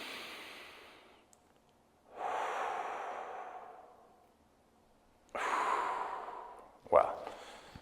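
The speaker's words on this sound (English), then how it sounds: "Big inhale, big exhale." Deep, slow breaths during a seated elbow-back stretch for desk and dental workers: three long airy inhale and exhale passes, close and fairly loud, with a short sharp catch near the end.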